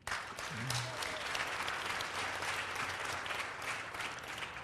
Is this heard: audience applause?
yes